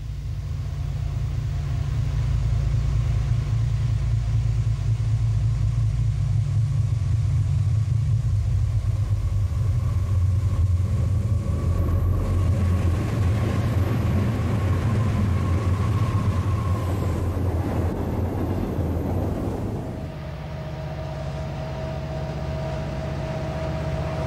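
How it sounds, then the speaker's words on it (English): Norfolk Southern diesel locomotives haul a heavy tonnage train up a grade on the Rathole line, a deep, sustained engine rumble and drone that eases off near the end. "It's an exciting show as Norfolk Southern's diesels work the grades."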